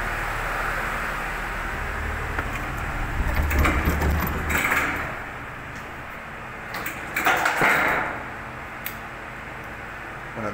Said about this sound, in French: la fameuse porte coupe-feu de 400 kg qui désormais est fonctionnelle